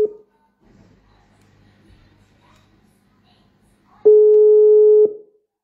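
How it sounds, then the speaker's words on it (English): Phone call to the Coastal Region ringing out, with a single steady electronic ring tone of about one second, loud and close, after a short quiet stretch with faint background murmur. "It's ringing."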